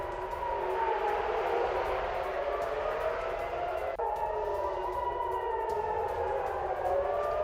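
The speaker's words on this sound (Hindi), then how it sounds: "रूस के ही कब्जे वाले क्रिमिया में एयर रेड अलर्ट है और सिम्फरोपोल में ही गूंजे अलर्ट सायरन।" Air raid sirens wail over Simferopol in Crimea during a drone attack, a continuous, rising and falling tone with overlapping distant sirens, sustained and steady with no talking.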